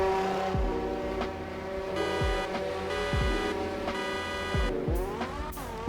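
Mercedes cars racing on a beach in ROBLOX, with engines revving and shifting up through repeated gear changes, tone climbing and dropping in quick cycles, ending with a squealing skid.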